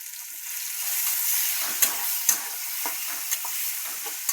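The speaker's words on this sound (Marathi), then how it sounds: "बघू शकता तुम्ही फोडणी आमची." Spices for a Marathi tadka sizzle loudly in hot oil in a pan, a steady bright frying hiss broken by a few sharp pops and spatters, close up with no talking.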